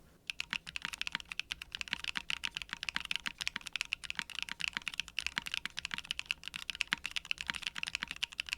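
Continuous close-up typing on a KBDFans Agar gasket-mount keyboard with an aluminum plate, no foam, PBT die-sub keycaps and HMX-made linear switches, giving a fast, steady run of crisp clacky keystrokes alone with no talking.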